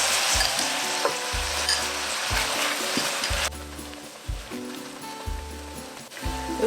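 Shrimp in lemon sauce bubbling and reducing in a frying pan, a continuous sizzle with periodic low stirring thumps, quieter toward the end, no voices.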